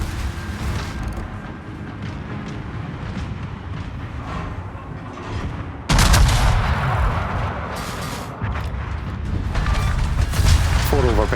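Warship main guns firing shells in World of Warships: a dense rumble of gunfire, then a sudden loud broadside barrage about halfway through, followed by continued heavy booms.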